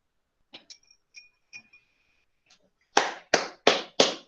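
A teacher claps hands in a classroom: four sharp, loud claps in a steady, slow rhythm near the end, preceded by a few faint taps and clinks in an otherwise quiet room.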